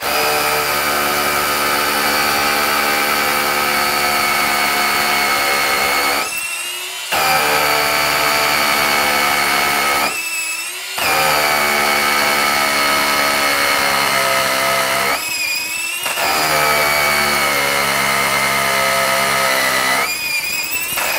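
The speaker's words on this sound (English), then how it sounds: "This is a concrete block. We're going to drill through that." A pneumatic impact hammer drills through a concrete block, a loud, close, steady hammering drone that runs in long bursts of several seconds, each broken by a brief pause before restarting.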